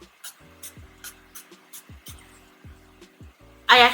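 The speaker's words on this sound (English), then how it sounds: "we're gonna use the Beauty Creations Rose Setting Spray" A Beauty Creations Rose Setting Spray is misted once in a short, loud burst near the end, after a stretch of quiet tapping and faint background sounds.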